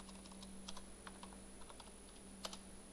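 Quiet keyboard typing with soft, irregular keystrokes spread across a few seconds, one sharper tap near the end, set against a steady low hum while a short name is entered.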